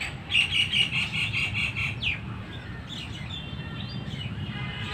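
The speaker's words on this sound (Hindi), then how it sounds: "पक्षी एक दूसरे को आवाज़ लगा रहे हैं" Birds call back and forth in a park, with a run of rapid high chirps early on, then scattered sharper calls over a rustling outdoor background, fairly close and without voices.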